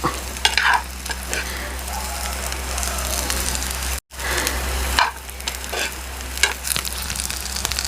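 Egg 65 fries in oil in a pan with a continuous, close sputtering sizzle and occasional stirring scrapes, broken by a brief dropout midway before the crackle resumes.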